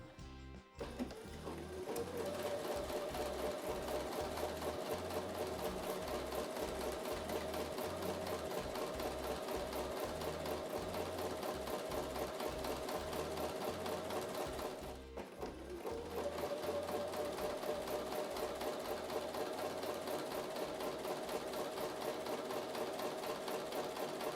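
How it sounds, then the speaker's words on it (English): Close, continuous hum and rapid needle chatter of a sewing machine running a quarter-inch seam, sewing in two long stretches separated by a brief pause, with no speech. "I'll take those over to the sewing machine and sew with a 1/4 inch seam"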